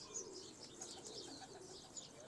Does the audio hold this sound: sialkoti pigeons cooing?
yes